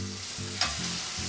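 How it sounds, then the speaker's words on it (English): San Marzano tomatoes stew in a pan with sofrito, giving a steady close sizzle and bubbling, broken by a few low tonal swells and a brief scrape near the middle. "So we're just going to want to let these tomatoes stew in here for just a few moments."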